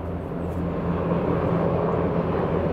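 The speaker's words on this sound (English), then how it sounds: "that's a military helicopter" A military helicopter passes overhead, a steady, loud rotor and engine drone holding without a break from start to end, with no voices.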